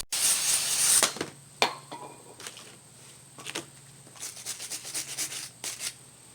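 A wire brush scrubs rust off the front brake hub of a 2004 Chevy Impala, a harsh close scraping hiss in short bursts separated by pauses, with no talking.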